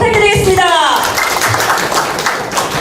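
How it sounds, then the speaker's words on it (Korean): Applause breaks out from an audience at a party members' meeting in a Daejeon hall. It arrives as a steady, dense wash right after a voice fades and carries on evenly to the end. "큰 박수 부탁드리겠습니다"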